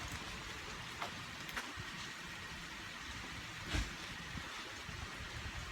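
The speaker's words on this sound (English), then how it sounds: "It's raining. Pouring." Steady heavy rain pours in a constant hiss outdoors, with occasional faint thuds and a louder knock partway through.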